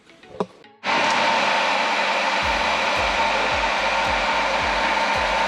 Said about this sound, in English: I use this heat gun, and it makes things easier for me.